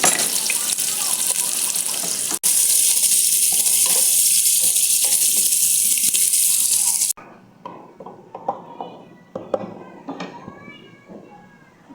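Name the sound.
onion frying in a pan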